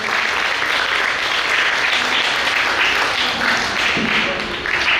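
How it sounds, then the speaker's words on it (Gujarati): A workshop audience gives a girl loud, sustained applause, a thick continuous clapping roar throughout with faint voices underneath. "એકવાર જોરદાર તાળીઓથી વધાવો દીકરીને."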